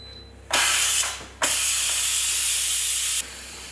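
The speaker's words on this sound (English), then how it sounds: "I'm going to release the steam here." Steam bursts from an Instant Pot release valve in loud, steady hissing jets, with a short first blast, a brief dip, then a longer continuous rush before it cuts off abruptly.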